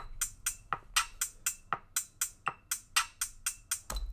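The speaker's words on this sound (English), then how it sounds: "so you have your starting beat, which sounds like this" A simple programmed drum beat: crisp hi-hat or snare hits in a steady, even rhythm with a few deeper kick thumps, clear and unaccompanied.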